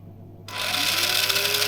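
An RC car's electric motor cuts in abruptly and runs at full throttle, a loud, steady high-pitched whine with a slowly rising tone that carries on to the end.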